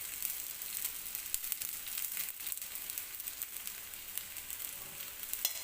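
Besan-coated bread shallow-fries over medium heat with a little oil drizzled around it in a pan, giving a faint, steady crackling sizzle with small pops throughout.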